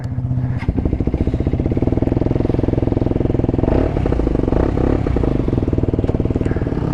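A Mototech MTR 125cc motorcycle engine runs loud and close, its pulsing putter rising and falling as the throttle is blipped.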